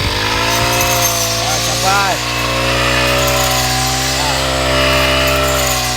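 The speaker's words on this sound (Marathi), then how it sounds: "ह्या मशीनद्वारे भात कापलं जातं बघा प्रत्यक्षात किती स्पीडली काम होतं बघा" A rice harvesting machine cuts paddy in the field with a loud, steady engine drone that holds throughout, and a voice talks over it.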